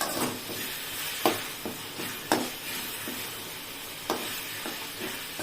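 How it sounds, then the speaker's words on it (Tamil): Ginger and garlic sautéing in oil for fish curry, a steady moderate sizzle punctuated by several sharp scraping clicks of a ladle stirring the pan, without speech. "இஞ்சியும் பூண்டும் நல்லா சரி சமமா போட்டுக்கோங்க மீன் குழம்புக்கு."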